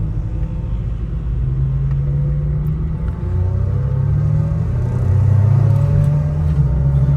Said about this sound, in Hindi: अब ये मेरी गाड़ी तेज़ चलाएगा